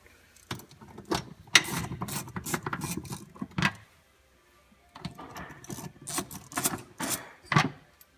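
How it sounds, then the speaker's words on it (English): Bolts are removed from the clutch cover of a Polaris Ranger with a Yanmar diesel engine, heard as close ratcheting and rattling metallic clicks in bursts, with a short quiet gap midway. "you can begin to remove the 11 bolts that hold the clutch cover on"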